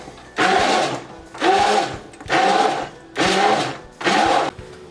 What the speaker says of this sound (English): So all I'm going to do is